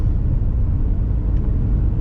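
A steady, loud low rumble from inside a moving car on the road, continuous and even with no voices.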